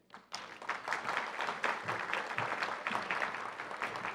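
Audience applause at a Mexican award ceremony as young honorees receive diplomas: a dense, steady wash of many hands clapping that swells in after a brief quiet start and holds loudly throughout.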